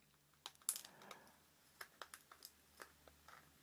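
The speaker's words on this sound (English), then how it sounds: "And the noise you hear, the little metal tangs inside releasing." A series of small, sharp clicks and snaps, quiet and close, comes in irregular bursts as metal clips release from an iPod touch glass digitizer panel.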